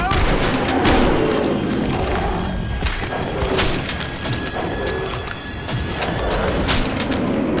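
Rapid, loud gunfire in the video game Metro 2033 Redux, with dense overlapping shots and bursts that carry almost without pause, mixed with clattering mechanical game sounds.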